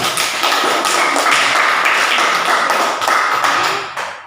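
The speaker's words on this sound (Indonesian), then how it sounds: "mari kita tepuk tangan dulu" Schoolchildren in a classroom clap their hands together, a loud, close, steady patter of many hands that holds for several seconds before fading quickly at the end.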